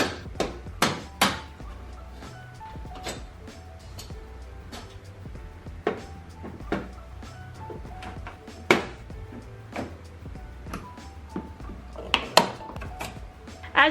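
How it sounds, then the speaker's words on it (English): Plastic retaining clips being pried out of a Toyota Tacoma front bumper, giving sharp irregular snaps, knocks and taps close by, several louder pops near the start and near the end, with no talk. "So we got more clips to remove."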